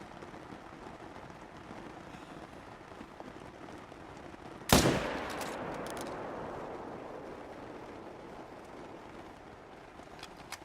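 A single sharp rifle shot in theHunter: Call of the Wild, hunting red deer in Scotland, cracks out loudly against a steady outdoor ambience, then its rumbling echo slowly decays into the background.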